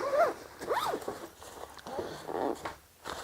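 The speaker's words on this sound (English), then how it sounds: "if I open both halves at the same time" Zippers on a black inner pannier liner bag are pulled open in several quick rasping strokes, close and clear, with brief pauses and small handling rustles between them.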